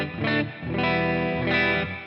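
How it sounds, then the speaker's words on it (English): Gibson Explorer electric guitar with a maple cap, heard through its second pickup: loud, sustained chords ringing out alone in roughly three strums, with a processed, slightly distorted tone. "Let's listen to what that other pickup sounds like."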